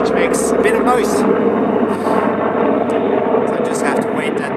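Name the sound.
helicopter flying overhead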